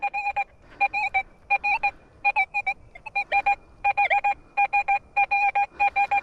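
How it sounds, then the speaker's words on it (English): A rapid series of short electronic beeps from an XP Deus 2 metal detector repeats in bursts, a two-tone signal pulsing steadily, close and clear against quiet background. "This is ringing up a 79 on the XP Deus 2."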